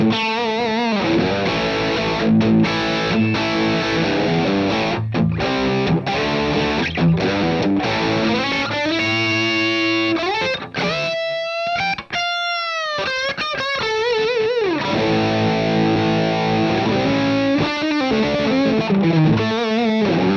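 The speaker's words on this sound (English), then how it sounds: "It's a really fat, warm sound on those humbuckers." Overdriven electric guitar through humbuckers on a 2022 Yamaha Revstar, with a thick, warm tone, played continuously with sustained chords and bending notes, loud and close.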